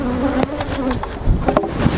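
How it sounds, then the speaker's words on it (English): Honey bees in an open hive make a dense, close buzzing drone, with individual bees whining past in brief rising and falling tones. "We have a lot of bees"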